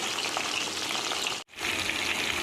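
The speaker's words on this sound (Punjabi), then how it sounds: "ਆ ਦੇਖੋ ਜੀ ਫਰਾਈ ਹੋਣ ਲੱਗ ਰਹੇ ਨੇ" Food fries in hot oil with a steady, dense sizzle that stops for a split second and then resumes, close by and with no voices.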